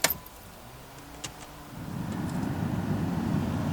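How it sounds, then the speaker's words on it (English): The heater blower motor fan of a 1990-1993 Acura Integra spins up and runs, a soft steady whoosh rising after a couple of clicks and holding quietly to the end. "make sure that the fan actually works"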